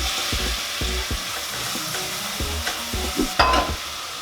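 Onions frying in melted butter in a pan give a steady close sizzle, broken by several dull knocks and scrapes of stirring and a brief brighter crackle near the end, with no talking.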